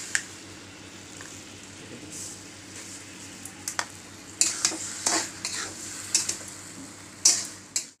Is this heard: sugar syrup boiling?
yes